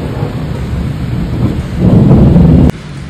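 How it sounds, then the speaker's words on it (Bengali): Thunder rumbles loudly and close during a heavy rainstorm, a deep sustained roll that builds over steady rain before breaking off sharply, no talking. "মেঘটা খুব জোর জোর ডাকছে একদম"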